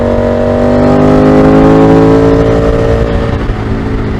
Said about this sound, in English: Car coming the other way.